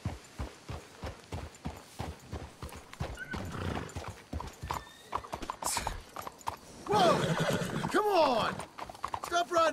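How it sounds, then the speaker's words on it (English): In Red Dead Redemption 2, rhythmic hoofbeats of horses trotting, with loud neighing and whinnies breaking in near the end, plus faint voices talking underneath. "Let's hitch your horses up ahead."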